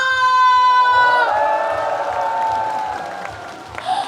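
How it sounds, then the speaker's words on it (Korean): A large crowd at a Mungyeong omija festival celebration concert in South Korea claps and cheers loudly, with whoops rising over sustained applause; a strong tonal sound fades out early on. "기다리셨다면 박수와 함성!"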